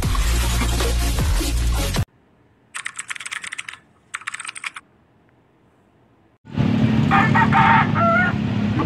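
A rooster crows near the end after stretches of clicking, clattering bursts and quiet, with a busy, noisy backdrop at a chicken market in Pampanga, Philippines.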